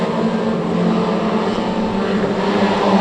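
Pro stock cars racing around the Cowdenbeath Racewall oval: a continuous, loud, close engine roar that holds steady with no breaks.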